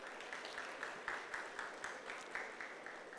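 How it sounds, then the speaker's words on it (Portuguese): Moderate audience applause fills a lecture hall at a talk on tire management, an even spread of clapping from many hands, somewhat distant and steady with slight pulses. "pedir um aplauso para esse cara, por gentileza"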